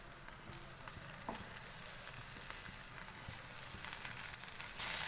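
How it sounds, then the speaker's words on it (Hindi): Sliced capsicum frying with chicken in a pan over medium flame, a soft, steady sizzle with faint crackles and occasional light stirring clicks, no talking. "कुछ सेकंड के लिए इसको चिकन के साथ फ्राई करेंगे"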